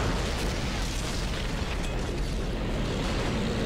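Dense artillery explosions in a World War II battle game rumble continuously, a thick steady roar of overlapping distant blasts and booms with no clear gaps and no talking.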